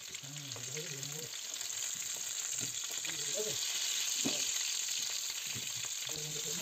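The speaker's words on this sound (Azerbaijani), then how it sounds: "Birinci bol yağda badımcanları çevirə-çevirə hər üzünü qızardırıq." Eggplant pieces frying in plenty of hot oil for an Azerbaijani eggplant sirdagi with peppers, a steady loud sizzle throughout, with short soft voice-like sounds and stirring knocks breaking through at intervals.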